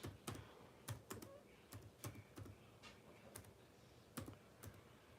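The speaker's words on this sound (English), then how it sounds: "Man, I'm getting good at typing too" Typing on a computer keyboard: a slow, uneven run of sharp key clicks with irregular pauses, close to the microphone and fairly quiet, with no talking.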